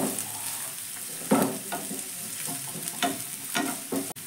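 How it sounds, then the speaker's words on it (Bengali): Chopped onion and green chilli fry in a pan, a close hissing sizzle with repeated scraping and clattering stirring strokes breaking through at irregular intervals. "এবার পেঁয়াজ আর লঙ্কাটাকে আমি 1 মিনিট মতো একটু ভেজে নেব।"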